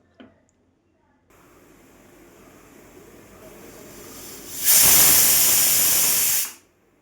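Pressure cooker cooking chana dal on a home stove, a low steady hiss that gradually builds and then bursts into a loud, sharp jet of steam for about two seconds before cutting off abruptly.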